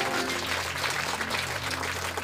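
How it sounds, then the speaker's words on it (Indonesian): Steady, dense applause from a church or worship gathering audience, continuous and fairly even throughout, with no clear individual claps standing out. "Tepuk tangan yang meriah buat."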